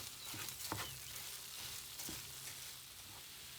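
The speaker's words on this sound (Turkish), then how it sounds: "Ve kavrulmuş olan bulgurlarımı da katıyorum arkadaşlar. Baharatlarını katıyorum. Karıştırıyorum." Roasted bulgur with spices is stirred and fried in a pan, a soft sizzle under intermittent scraping stir strokes, fairly quiet and close with no voices.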